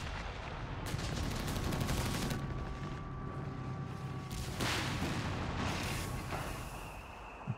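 Machine gun fire in the video game Company of Heroes 3 rattles out in several bursts of rapid shots over a low rumbling battlefield backdrop, with no talking.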